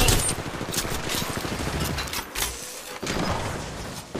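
Rapid automatic gunfire rattles through a match of the mobile shooter Apex Legends Mobile, with dense overlapping bursts of shots that stay loud and busy and leave no clear pause.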